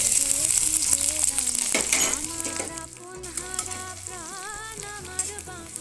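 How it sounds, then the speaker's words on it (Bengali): Chopped onion fries in a small amount of oil with black cumin in a wok, giving a steady close sizzle with stirring scrapes, while music plays over it. "কড়াইতে আমি আর একটু সামান্য পরিমাণ তেল কালো জিরে ফোড়ন দিলাম পেঁয়াজ কুচনোটা দিয়ে দিচ্ছি"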